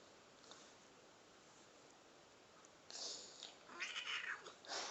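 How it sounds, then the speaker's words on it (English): A house cat meows several times up close in the latter half, drawn-out plaintive calls after a few seconds of quiet room hiss. "my cat came for support"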